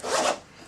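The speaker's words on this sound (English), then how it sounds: "zip the boot up" A boot's zipper is drawn up in one quick, close rasping pull lasting under half a second, then a faint tail with no voices.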